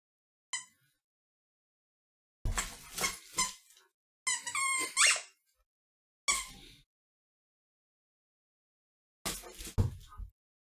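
A door squeaks in several drawn-out, high-pitched creaks separated by silence, one short squeal near the start and a long warbling creak in the middle, close and fairly loud with no talking.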